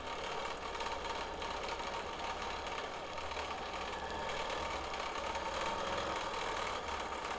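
A quilting sewing machine runs in a steady, continuous hum and stitch at close range, with a constant mechanical drone and no pauses, just after a bobbin change.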